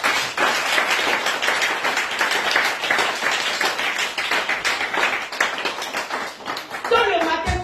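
A church congregation claps and acclaims together, with a dense, continuous patter of hands and raised voices. A brief spoken phrase comes in at the very end.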